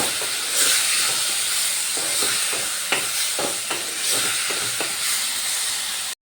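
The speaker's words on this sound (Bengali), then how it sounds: "আলুগুলো দিয়ে আবারও আমি মশলার সাথে ভালো করে কষিয়ে নেব" Fried potatoes are sautéed with spices in a pan, producing a loud, steady hiss of frying. Repeated stirring clinks and scrapes sound over it, and no one speaks.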